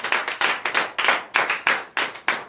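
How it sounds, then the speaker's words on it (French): A church congregation claps in acclamation during a night deliverance prayer service in Comè, Benin, a loud near crowd beating out a steady, regular rhythm of strong unison claps with no talk over it. "Donnez encore l'acclamation à notre Seigneur Jésus"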